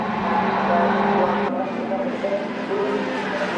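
Caterham Roadsports race cars roar past on track, a loud steady engine drone that shifts abruptly halfway through as another car takes over, with race commentary running over it.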